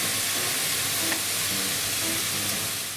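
Onions and pork frying in a pan with a splash of sake, a steady dense sizzle that holds evenly throughout with faint stirring underneath, fairly loud and close.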